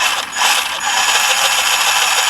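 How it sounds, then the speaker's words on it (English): An electric motor on a Traxxas 4-TEC 2.0 Ford GT radio-controlled car whirs at a high, steady pitch with a faint ratcheting gear edge, close up and loud, with no talking. "I'm just going to drive it and see how long it lasts"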